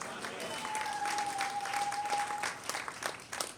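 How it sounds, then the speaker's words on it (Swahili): A church congregation applauds for Jesus during a sermon, sustained clapping from many hands spreading through the room at moderate level. A steady tone and some voices run underneath. "Pigie Yesu makofi mazuri."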